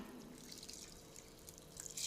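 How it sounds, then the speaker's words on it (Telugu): Water is poured onto sago pearls set to soak in a home kitchen, a faint, steady trickle with light dripping that runs for about two seconds and swells slightly at the end. "నీళ్లు మాత్రం పర్ఫెక్ట్గా పోయాలి."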